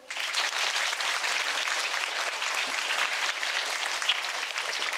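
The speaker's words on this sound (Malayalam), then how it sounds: "঒ന്ന് ഉറക്ക കൈയടിച്ചേ" A crowd at E.K.M.U.P School in Vaniyambara breaks into loud, sustained clapping that starts suddenly and stays dense and even throughout, with no talking over it.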